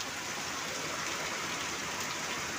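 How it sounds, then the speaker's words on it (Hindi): Torrential storm rain pours down in a dense, unbroken roar, loud and close with no voices. "इतना भयंकर बारिश, तूफान"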